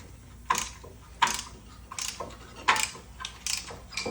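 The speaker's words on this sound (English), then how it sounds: "There's many ways to turn back a caliper, guys." A brake caliper turn-back tool works the piston back into the caliper of a 2004-2009 Toyota Prius, giving a series of sharp metallic clicks and ratcheting snaps at regular intervals, close and fairly quiet.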